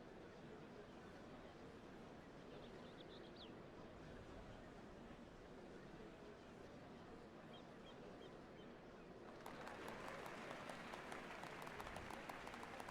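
Applauding crowd at a ceremony for the changing of Dawnservants in the video game Final Fantasy XIV, beginning as a faint murmur under wind-like ambience and swelling into dense, steady clapping for the final few seconds.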